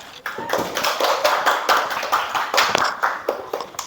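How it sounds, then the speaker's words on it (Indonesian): A classroom of students claps for the last student group, a brief scattered patter of hands over about four seconds, fairly close and moderately loud, with no talking. "beri tepuk tangan untuk kelompok terakhir, kelompok 3"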